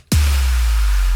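One sudden, heavy boom hits after a split second of quiet, with a deep low rumble that holds and sustains to the end.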